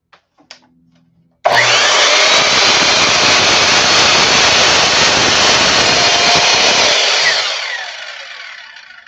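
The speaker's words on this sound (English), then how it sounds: "This is a budget miter saw." A budget miter saw in a home workshop roars up after a few light knocks, holding one loud, harsh whine for several seconds before spinning down and fading.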